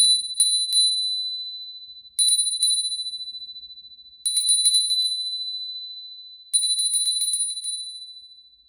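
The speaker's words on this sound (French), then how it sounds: "Je vais vous faire un petit coup de cloche pour vous remercier." A small bell is rung four times as a thank-you, each bright ding followed by a few quick tinkling strikes, then left to ring out slowly into silence; clear, close and alone.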